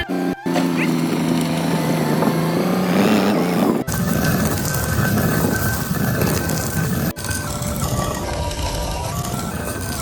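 A tractor engine runs with a steady, loud drone and low rumble, continuously without pause, idling or chugging nearby.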